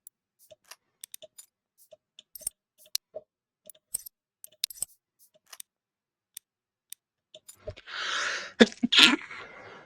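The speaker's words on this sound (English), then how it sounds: "Gesundheit." Sparse, sharp clicks and snips from hobby building work on a model warbird plane fill a quiet room, then a single loud, close sneeze bursts out near the end.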